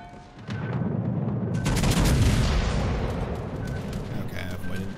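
Naval combat in a video game with torpedoes and gunfire: a deep booming rumble swells and lingers, layered with rapid crackling shots and explosions, loud and continuous, with a player's voice talking over it.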